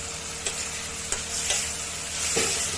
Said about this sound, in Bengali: আলুগুলো দিয়ে আরেকটু কষাতে হবে।